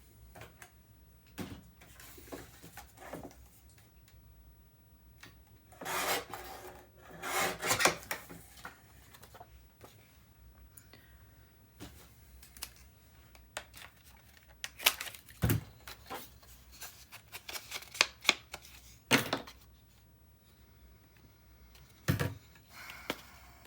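Paper pieces for a mini album being trimmed, with intermittent close scraping and rasping cuts in short bursts between quiet pauses, no talk.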